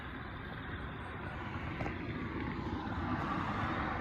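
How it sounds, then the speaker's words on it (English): A steady, low rumbling drone of aircraft passing overhead fills the outdoor night air near a city refinery, constant and moderately loud throughout, with frogs in the area. "You can hear the frogs and the planes"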